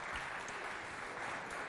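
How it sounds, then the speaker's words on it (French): A school audience claps hard and steadily at a lycée show, a dense, even wash of applause throughout with no voices on top. "On applaudit bien fort."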